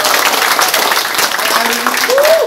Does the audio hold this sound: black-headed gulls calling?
no